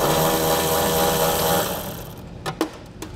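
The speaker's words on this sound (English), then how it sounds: "I'm going to take an 8mm socket and pull that nut out" An 8mm socket works a nut off a ground point on a 2017 Ford Fusion with a steady, loud whirring power-tool drone that fades out, followed by a few sharp metallic clicks and clanks.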